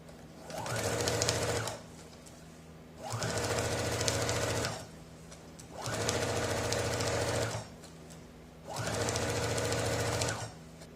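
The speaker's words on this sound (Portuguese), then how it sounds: "Então eu vou alinhar com a costura que já está feita, vou tomar o cuidado e vou quiltar." A sewing machine quilts fabric to its lining along an existing seam. It runs in four steady bursts of rapid stitching of about two seconds each, separated by short quiet pauses, with no talk.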